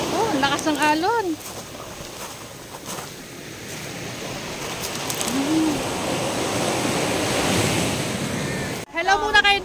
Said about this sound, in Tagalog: Oh, lakas ng alon.